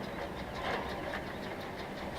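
A TS115 yard tractor engine in Farming Simulator 17 runs with a steady, even mechanical drone that holds at a constant level for the whole stretch, with no talk over it.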